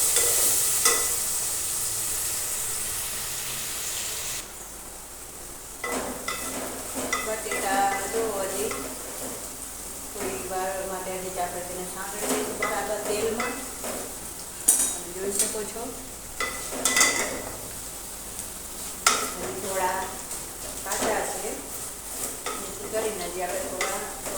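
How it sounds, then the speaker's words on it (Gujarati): Potatoes frying in oil in a pan while being stirred, with soft sizzling under repeated scraping and clinking strokes of a spoon against the pan, interrupted by brief bursts of talk. "બટેટાને સાથે બરાબર ચલાવી દઈશું"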